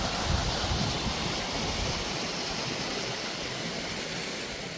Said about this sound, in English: and another waterfall